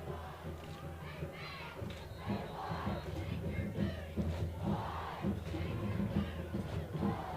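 Dover fans at a high school football game against New Oxford cheer and shout from the stands, a lively crowd swelling in waves with voices mixed in.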